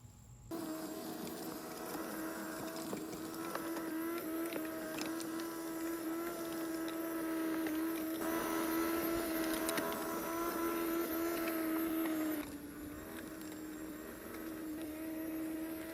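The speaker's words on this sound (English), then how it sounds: "then I'm gonna run that little tiller through here and just kind of mix it up" Small garden tiller running steadily through soil in a garden bed, a continuous close engine drone with a high whine that holds at one pitch for most of the stretch and drops slightly near the end.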